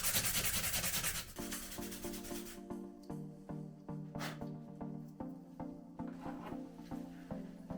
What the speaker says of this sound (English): So now I'm going to clean it up by just placing on a bit of sandpaper and then sanding it flat.